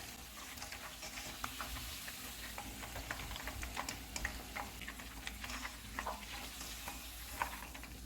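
Chicken fries in hot oil in a pan for chilli chicken, a steady quiet sizzle dotted with crackles and small pops, close by and alone without speech.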